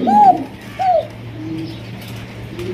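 A pigeon coos close by, two soft rising-and-falling calls in quick succession, then a fainter low murmur fading into quiet room background.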